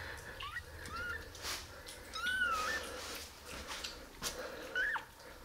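Newborn kittens about eleven days old mewing softly, several thin high-pitched cries spaced irregularly across a few seconds, close by and quiet over faint room noise.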